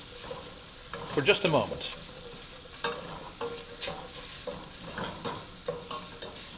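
Spices frying briefly in a pan for a red lentil curry: a soft sizzle with stirring and scraping, quiet and close, while a voice speaks over it.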